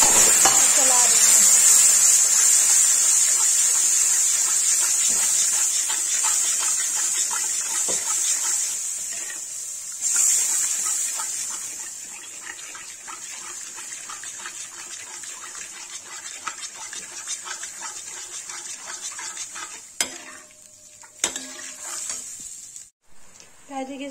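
Dum aloo masala with turmeric and red chilli sizzles and is stirred in a pan, a steady bright frying hiss with soft scraping, loud at first and fading, with a few clinks near the end.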